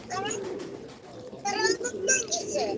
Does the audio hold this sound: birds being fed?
yes